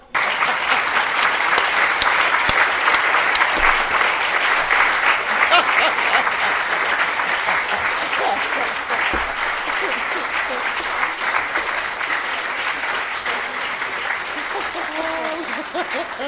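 An audience at a public philosophy talk applauds steadily for the whole stretch. The dense, even clapping from a large crowd carries a faint murmur of voices beneath it.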